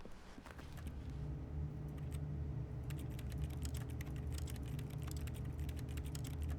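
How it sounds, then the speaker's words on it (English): Keyboard typing in the video game The Stanley Parable: a quiet, steady patter of key clicks, close and continuous, over a faint low hum of an office room. "Typing at my computer."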